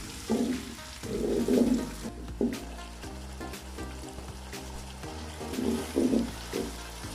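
Tomato paste fries in a pan for rajma curry, giving a soft, uneven sizzle with intermittent bubbling and stirring sounds, moderately quiet with no talk.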